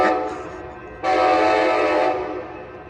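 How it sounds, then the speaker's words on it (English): An Amtrak Capitol Corridor train, number 551, arriving at Oakland Jack London Square station sounds its horn, a loud chord that steps up in strength and holds steady for about two seconds over low rumble. "This is Amtrak Capital Corridor train 551. Making our final stop here at the Oakland Jack London Square Station."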